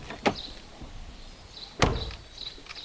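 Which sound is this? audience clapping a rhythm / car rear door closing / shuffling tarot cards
car rear door closing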